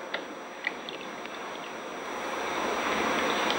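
Water runs through a tabletop demonstration river model, a steady, soft rushing flow that gradually grows a little louder, with a few faint clicks early on.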